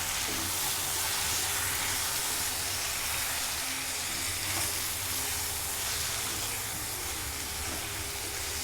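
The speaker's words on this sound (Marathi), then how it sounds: "1-2 मिनिटांनी आपण आता बघूया, व्यवस्थित हलवून घेऊया" A potato and spinach bhaji sizzles and hisses loudly and steadily in a pan while it is stirred, a dense continuous frying sound with faint scraping underneath.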